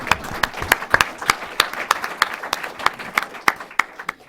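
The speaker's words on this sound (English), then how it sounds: "You can applaud for that." A small audience at a Library of Congress tribute applauds with distinct, fairly loud individual claps that form an uneven rhythm and stay close.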